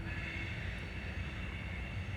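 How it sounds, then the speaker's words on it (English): A train approaching and rolling past, a steady low rumble with a faint high squeal, fairly distant and quiet, with no talking. "Okay, we got a train coming in."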